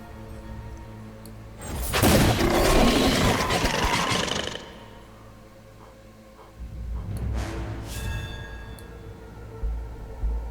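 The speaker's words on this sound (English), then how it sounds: "Oh, that concussive rocket is so good." A concussive rocket detonates in the card game Book of Demons: Hellcard, two broad booming bursts, the first long and roaring, the second shorter, each rising out of a quieter game backdrop.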